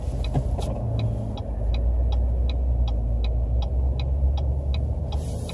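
A 2018 GMC Denali 2500HD heavy-duty pickup rolls through a tight turnaround, its steady low engine rumble and road noise continuous and close, with faint regular ticking, likely the turn signal, above it and no talking.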